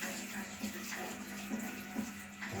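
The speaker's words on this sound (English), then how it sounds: "So, add the water to it now." Water pours steadily into a pot for steaming fish in Jamaican outdoor cooking, a continuous splashing rush.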